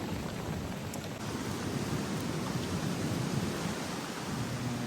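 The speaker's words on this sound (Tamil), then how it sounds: "ஃபுல் மழை." Heavy rain pours down steadily at a fishing camp tent by the shore, a dense continuous roar with no breaks and thunder rumbling low beneath it.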